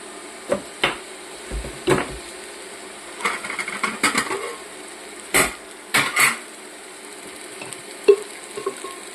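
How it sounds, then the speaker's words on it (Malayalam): Vegetables, including mashed jackfruit seeds and drumstick leaves, sauté in a pan: a quiet sizzle runs under repeated scraping strokes and clinks of a spoon against the metal. "എല്ലാം ഒന്ന് വഴന്ന് വരട്ടെ"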